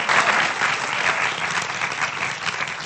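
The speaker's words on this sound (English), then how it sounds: "I think we can give a round of applause now." An audience claps for a panel at the Beyond Brent 2020 event, a dense, steady round of applause from a crowd that holds at full strength for the whole stretch without any voices.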